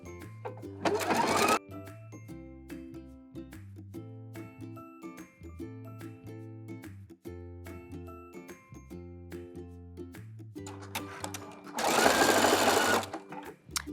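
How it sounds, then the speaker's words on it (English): Sewing machine running a zigzag top stitch on elastic for a bralette, a close, rhythmic mechanical whir in repeated short bursts, with two brief louder rustling handling noises. "now we're gonna top stitch it down with the zigzag stitch"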